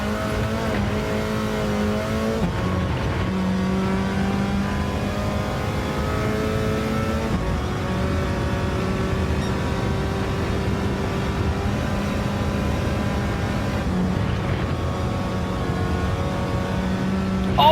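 A Mini's engine in Gran Turismo 7 revs hard and steadily for the whole stretch, with rising harmonic whine, brief dips at gear changes and faint tire noise, and no talking.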